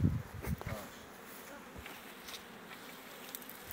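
Honey bees hum around hive frames of brood during spring colony work before the acacia bloom, a steady low drone after a few close knocks and handling thumps at the start.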